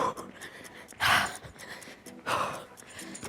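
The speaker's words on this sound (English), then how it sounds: "Breathing in and out." Heavy breathing during an at-home lower body workout: two strong, breathy gasping exhales stand out over a faint background, close to the microphone, with no clear speech.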